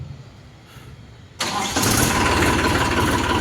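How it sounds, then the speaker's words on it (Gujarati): An Eicher 380 tractor's diesel engine cranks briefly, then catches and settles into a loud, steady, close idle rumble. "ચેક કરવાનું સ્ટાર્ટિંગ એકદમ સ્મૂથ સ્ટાર્ટિંગ છે"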